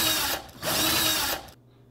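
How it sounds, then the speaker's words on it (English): A power drill bores holes into a wall for plastic anchors: two loud, close, broadband whirring bursts separated by a brief pause, then cutting off to near silence, with no talking. "I went ahead and drilled out two holes"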